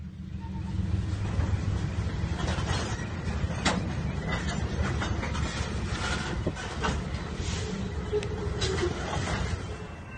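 A freight train with corn syrup tank cars rolls along the old Chesapeake and Ohio line in Newport News, giving a steady, fairly loud rumble and rattle of cars with occasional squeaks and clanks, no voices.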